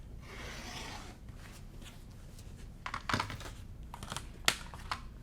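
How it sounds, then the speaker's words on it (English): A 5-inch cotton fabric strip for a quilt block is cut with a few close, quiet slicing and rubbing sounds, crisp snips near the middle and end of an otherwise hushed moment. "I'm just going to cut a big 5-inch strip"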